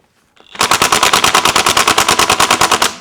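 DeWalt DCF899H brushless impact wrench on setting 1 hammering at a car's lug bolts: a loud, close, rapid machine-gun-like rattle of even impacts that runs steadily for over two seconds.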